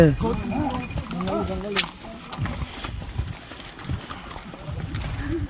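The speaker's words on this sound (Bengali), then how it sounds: "আমরা ঘোড়ায় করে বাইসারেন ভ্যালি যাচ্ছি" Hoof clip-clop from a horse being ridden to Baisaran Valley in Pahalgam, steady rhythmic steps close by, with people talking over it.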